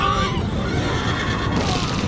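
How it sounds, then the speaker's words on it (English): Cavalry horses neigh loudly amid a dense rumble of hooves and battle noise, a close, full charge sound with one shrill whinny standing out at the start. "The ground trembled under the charge of Cao Cao's elite cavalry"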